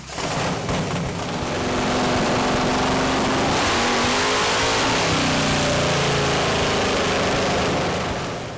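A car engine revs hard on a dyno during a pull with Camaro, Firebird and Silverado trucks at the event. It is a loud, sustained roar that climbs steadily in pitch for several seconds, with no talking.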